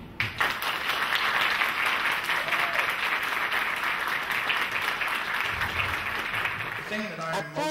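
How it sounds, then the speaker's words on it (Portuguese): Lecture audience at a university mathematics education course applauding a visiting professor, sustained thick clapping from many people at a steady level, tapering off near the end as a voice begins to speak. "eu gostaria de uma grande salva de palmas"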